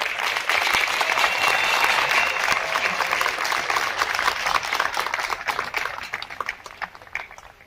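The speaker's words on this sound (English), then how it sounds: "Let's give him a round of applause." A graduation audience at a College of Business Administration commencement in 2023 breaks into loud, full applause that rolls on evenly, then thins and fades toward the end.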